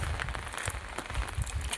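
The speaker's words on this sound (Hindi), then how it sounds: "बारिश रुक गई थी, फिर अभी फिर स्टार्ट हो गई है" Steady rain falls in a village, a continuous hiss with soft irregular patter of drops striking surfaces nearby.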